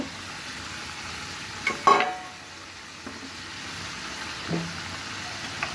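Eggplant pieces drop into a hot pan for a sweet-sour chutney with a single clattering splash. A quiet, low sizzle carries on afterward, with an occasional faint stir.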